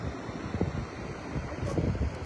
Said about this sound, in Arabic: بطبيعه الحال البحر هايج